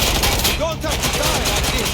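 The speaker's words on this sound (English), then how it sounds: "They're shooting at us!" Rapid automatic gunfire during a police shootout in Watch Dogs Legion, a dense burst of sharp cracks running through the whole moment, loud and close, with a voice underneath.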